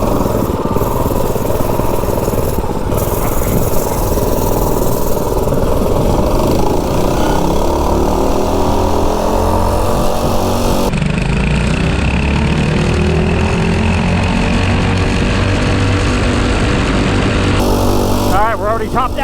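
A two-wheel drive mini bike engine runs flat out with a continuous loud drone, heavy wind rushing across the microphone and rising and falling pitch as it tops out.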